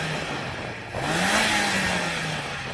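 A stock Mazda Roadster NB engine revs up once, its pitch rising sharply and then holding a steady high drone, heard alone and fairly close.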